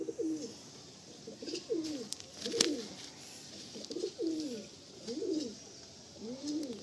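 Madrasi pigeon cooing in a steady series of soft, rolling coos, about six repeated calls at a regular rhythm, close and moderately loud with a brief sharp click partway through and no talking.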